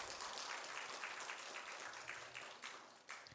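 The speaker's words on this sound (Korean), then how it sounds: "박수 한번 해드릴까요?" Congregation applauding during a Sunday church service, honoring a Korean War veteran elder; steady dense clapping throughout, moderately distant and filling the hall, no talk over it.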